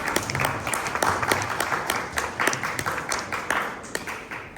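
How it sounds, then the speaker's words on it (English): An audience claps for the panelists at a culture and identity panel event held by the Bangladesh High Commission in London, producing a brisk round of individual hand claps that is close and lively, then thins toward the end. "May I request for a round of applause for our panelists"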